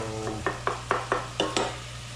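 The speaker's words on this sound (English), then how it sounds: "we're gonna saute that just a smidge so that onion becomes a little bit translucent" Onion sautéing in a pan, with a soft sizzle under a run of sharp, evenly spaced scrapes and taps of a utensil against the pan, close up and without talk.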